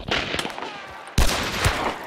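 Gunshots ring out in the Hunt: Showdown video game: a few sharp reports with a loud close blast midway, followed by a lingering echoing tail, and no talk.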